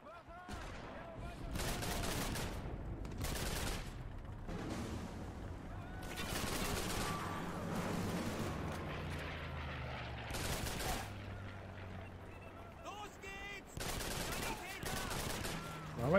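Gunfire from the video game Call of Duty 3 comes in repeated automatic bursts, loud and close, separated by short pauses with quieter rumbling effects in between.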